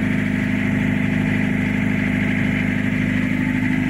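A Toyota Kijang LGX diesel engine idles during a tune-up, giving a steady, loud, even chugging rumble that continues without a break and with no voices over it.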